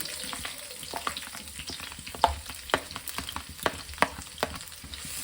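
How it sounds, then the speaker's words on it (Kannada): Curry leaves and onion frying in a hot pan for Mangalore-style prawn ghee roast, a soft continuous sizzle broken by frequent sharp crackles and pops, fairly quiet with no talk. "ಚೆನ್ನಾಗಿ ಫ್ರೈ ಮಾಡಿ"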